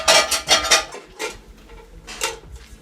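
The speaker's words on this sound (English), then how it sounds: "So these are the 2 frying pans." Two frying pans handled and set down in a kitchen, giving several bright metallic clatters and clanks in quick bursts, close and fairly loud, with a pause before a final knock.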